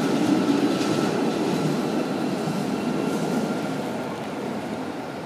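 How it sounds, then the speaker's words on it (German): Bielefeld Stadtbahn Line 1 tram bound for Senne, a steady close rolling rumble with a faint high wheel whine, gradually easing in loudness across the stretch. "Das ist die Linie 1, die nach Senne fährt."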